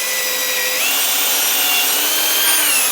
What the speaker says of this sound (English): Start the drill.